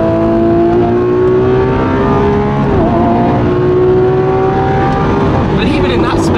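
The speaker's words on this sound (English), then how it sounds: "Savagery of the upshifts." Lamborghini Aventador SVJ V12 engine at full throttle on the Estoril circuit, a loud, sustained howl that climbs in pitch and drops sharply at each upshift, with two or three shifts in quick succession.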